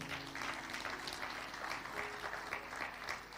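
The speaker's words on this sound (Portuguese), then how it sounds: "Quem entendeu, dê um aplauso bem forte ao Senhor." A church congregation applauds together, a steady wash of clapping that holds evenly from start to finish with no voices standing out.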